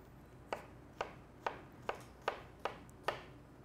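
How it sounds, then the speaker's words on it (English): A knife chops tomatoes into a small dice on a cutting board, seven crisp, evenly spaced strokes about half a second apart, close and clear with no talking. "So I'll be cutting tomatoes right now."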